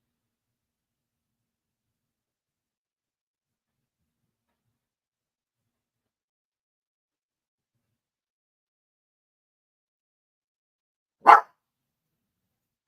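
A single short dog bark, loud and close, breaks an otherwise silent stretch near the end, with no voices around it.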